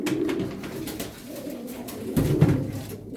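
Tumbler pigeons cooing in a low, soft, throaty murmur, with a louder, closer burst of cooing near the end and no voices.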